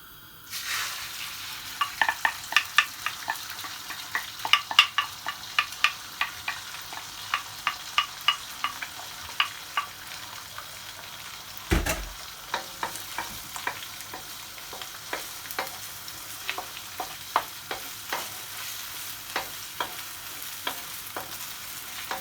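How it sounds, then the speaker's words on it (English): Egg being stirred and scrambled in a little oil in a pot while cooking chicken fried rice, with a steady sizzle under repeated sharp scraping taps of the utensil against the pot and one heavier clatter midway; no talking. "I don't want to put too much oil, I'm just gonna scramble the egg"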